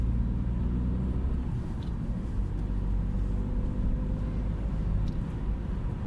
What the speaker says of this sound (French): on entend quand même beaucoup la route, hein, les aspérités de la route, les déformations